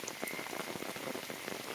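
Heavy rain pours steadily on a village, a dense continuous hiss of drops striking surfaces with no voices, unbroken throughout.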